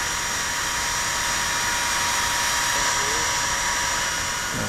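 Electric router carving a heart design into wood, shaving along narrow walls and turns; a loud, steady high-pitched whine with broadband roar runs continuously and close throughout.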